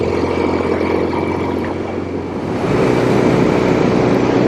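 A 1967 Norton P11 desert motorcycle with an Atlas 750 engine pulls away under steady load, its engine drone close and continuous, swelling louder and rougher in the second half as it accelerates out of town.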